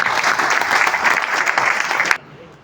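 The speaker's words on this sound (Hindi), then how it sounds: "अपने लिए तालियां बजाओ" A business meeting audience claps loudly and steadily for about two seconds, then the applause cuts off abruptly into near silence.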